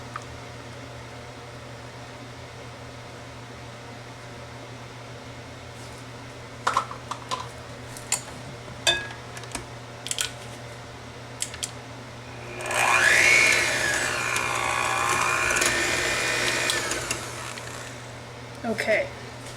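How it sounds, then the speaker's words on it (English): An electric hand mixer whirs steadily on low speed through muffin batter of sour cream and salt, a continuous mid-loud motor hum following a few clicks and taps, with talk in the background. "we're going to mix this now on a low speed"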